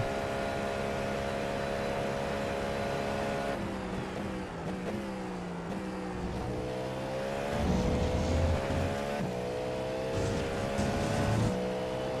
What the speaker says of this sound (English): These curbs are so loud.